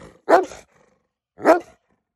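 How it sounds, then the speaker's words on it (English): A huge 95 lb German shepherd gives two loud, harsh growling barks about a second apart, close up and alone, with near silence between them. "I'm gonna cut to a video and show you this dog Reno"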